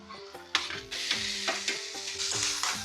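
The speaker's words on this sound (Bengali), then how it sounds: "মশলা থেকে তেল ছেড়ে দিয়েছে, চিকেনটা ডালি দিয়ে রাখুন।" Half-fried chicken sizzles in spiced oil for butter chicken, with steady frying hiss broken by rhythmic scraping strokes of a spatula stirring the pan up close.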